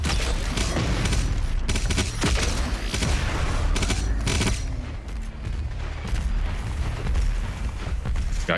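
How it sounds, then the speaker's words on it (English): Cannons fire off repeatedly in Doom Eternal: The Ancient Gods, loud booming blasts and crackling gunfire packed densely together in a continuous chaotic barrage. "Got cannons firing off everywhere."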